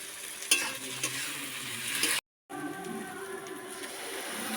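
Sliced onions frying lightly in oil in a home kitchen pan, a soft continuous sizzle with occasional stirring scrapes, briefly cut off by a moment of silence before resuming.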